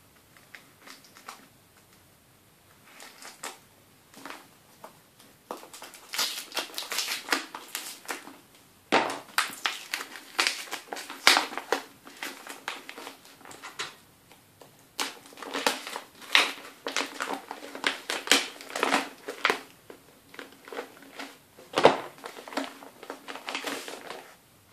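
A parcel being opened with scissors, with sustained crinkling and crushing of packaging in irregular bursts of close rustling and snipping, growing busier after the first few seconds, with no talking.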